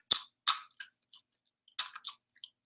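Crisp, crunchy green beans coated in pork rinds are chewed close to the mic, giving a series of sharp, separate crunches with short silent gaps between bites.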